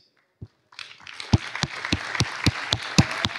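An audience at an opening ceremony breaks into applause, a dense spread of clapping that builds after a couple of lone claps and carries on steadily with a few louder, sharper claps standing out.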